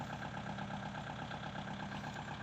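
A farm tractor's engine idles steadily nearby, readied for a cassava harvest, with a constant low rumble and even mechanical knock throughout and no voices.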